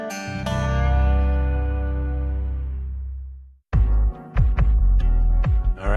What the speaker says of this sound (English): we got some 808s and a sub bass going